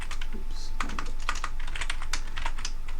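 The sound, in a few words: typing on a computer keyboard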